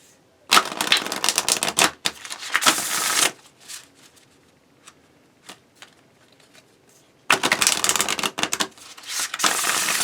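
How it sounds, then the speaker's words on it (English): A deck of tarot cards is shuffled in two loud, crisp bursts of riffling and flicking, separated by a quieter stretch with a few soft card taps. "Sometimes it's difficult to shuffle and other times it's great."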